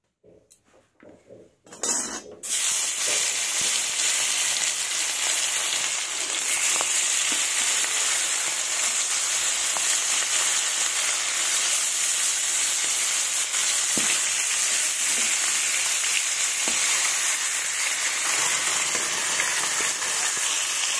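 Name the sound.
fish frying in hot mustard oil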